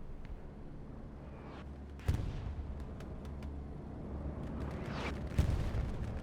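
A bombing run in a Division 2 match from a competitive league, with low rumbling explosions and blasts, a sharp heavy impact near two seconds and another burst toward the end, under a steady roar of game sound.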